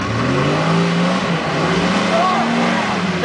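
A Jeep engine revs hard in a stuck-vehicle attempt, a loud, continuous roar with rising and falling pitch sweeps across the whole stretch, voices mixed in underneath.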